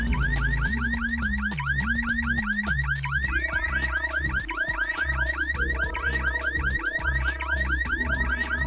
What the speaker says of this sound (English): Can't say I'm a huge fan of the car alarms